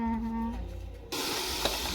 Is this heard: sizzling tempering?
yes